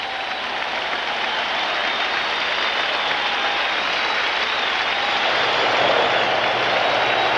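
More than 40,000 baseball fans at Shea Stadium applaud 20-year-old Mets pitcher Dwight Gooden, a sustained wash of clapping and cheering that swells slightly toward the end, with no voices heard over it.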